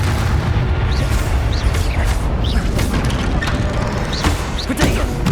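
Confringo blasting spell explosions in Hogwarts Legacy, heavy booming bursts and crashes layered over a dense, continuous roar of spell combat throughout.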